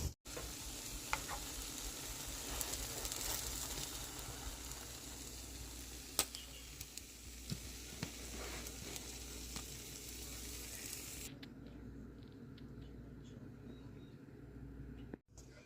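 Omelets frying in a pan on the stove give off a steady, continuous sizzle, with occasional light scrapes and clinks, until the sound drops away near the end.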